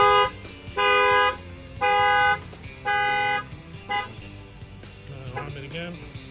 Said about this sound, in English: This will set off the factory alarm.